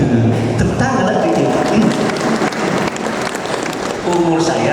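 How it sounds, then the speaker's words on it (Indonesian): Audience applause at the opening ceremony of a cadre empowerment school in East Kalimantan, a dense continuous wash of clapping from a crowd in a hall, loud and sustained with no pauses. "Tepuk tangan lagi"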